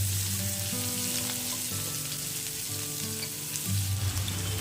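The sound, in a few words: onion and potato frying in oil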